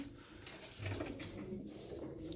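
Soft, low pigeon coos murmur faintly in a quiet space, a few gentle rounded calls close by with light rustling.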